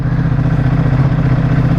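A 2018 Ducati Multistrada 1260 S motorcycle engine runs just after starting, a loud, close, steady throbbing idle with no talk over it.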